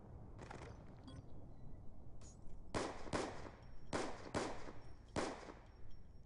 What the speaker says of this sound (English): So a nice pistol shot there by Vulture.